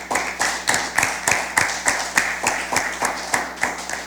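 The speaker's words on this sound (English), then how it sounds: "Please give them a round of applause." Clapping at a junior science quiz for a school team comes as loud, evenly spaced claps, roughly three per second, forming a steady rhythmic beat over a low background hum.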